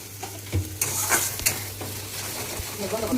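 Onions frying and being stirred in a pan while cooking palak paneer, with a soft continuous sizzle under several scraping stirs of a spoon against the pan, close and fairly quiet.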